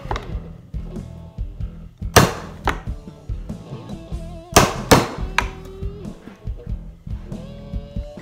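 A chisel is struck to cut a pickup opening in a wooden guitar body, giving sharp, close knocks at irregular intervals with scraping and small handling sounds between them.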